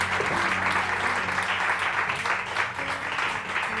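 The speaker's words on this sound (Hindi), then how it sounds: "तो पेशावरी लोगों के लिए बहुत सारी तालियां" Studio audience on a Pakistani morning TV show applauding, continuous dense clapping at steady loudness with faint music underneath.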